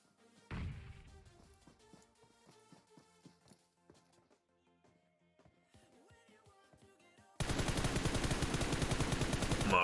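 Gunfire in a PUBG Mobile match: a sharp shot burst near the start, then scattered quieter shots and clattering over game ambience, ending in a loud, rapid automatic volley that runs to the end.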